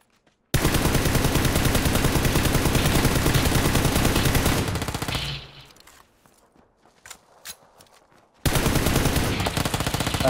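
Sustained automatic fire from an M416 assault rifle in the PUBG video game, loud and rapid with no gaps, breaking off into scattered clicks and small handling noises before another long burst roars back in.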